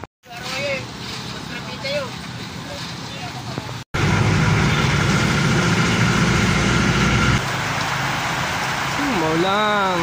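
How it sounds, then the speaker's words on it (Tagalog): Steady heavy rain hisses over traffic noise, with a brief dropout early on and a warbling siren rising near the end. "Lumalakas ang ulan."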